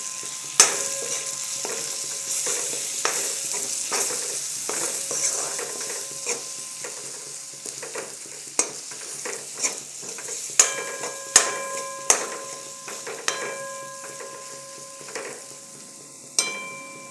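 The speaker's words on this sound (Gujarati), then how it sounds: "ચોંટે ના એ રીતના થોડી વારે હલાવીશું અને શેકાવા દઈશું." Spice masala of coriander-cumin powder and garam masala roasting in a pan, a continuous sizzle with frequent sharp metallic scrapes and taps of the spoon, picking up pace toward the end.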